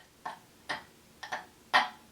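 A voice imitating choking and struggling to breathe, four short strained gasping clicks spaced at a halting rhythm, close and fairly quiet, the last one loudest.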